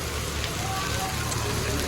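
Steady rain hisses and patters across the whole stretch, a dense wash of falling drops close to the mic, with no clear talk over it.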